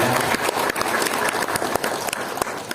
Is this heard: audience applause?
yes